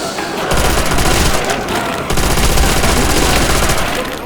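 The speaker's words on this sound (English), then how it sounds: "So we'll use the MG for now." Rapid automatic fire from the MG machine gun in World at War Zombies, a loud, dense burst-heavy clatter with a short pause near the start and another mid-clip, continuing steadily to the end.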